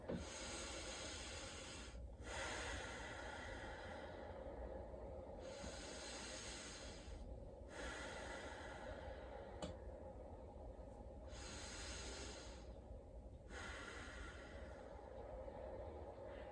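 Slow, deep breathing during a relaxation exercise: long, soft, airy breaths rise and fall in a steady cycle every few seconds, close and quiet, with no talking.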